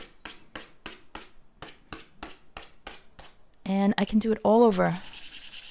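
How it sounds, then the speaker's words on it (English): Leather on an APC Grace Baguette bag being scratched and scraped hard, a regular series of about ten sharp rasping strokes, close and fairly loud, followed by a brief spoken line. "I'm literally scratching and scraping the leather"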